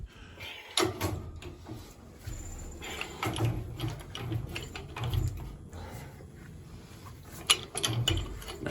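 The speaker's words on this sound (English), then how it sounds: "we're going to use power of physics to make this wrench tight" A wrench tightening a fitting on a leaking steam pipe during a basement repair gives irregular metallic ratcheting clicks and knocks, close and moderately loud, with scraping and clunks in between.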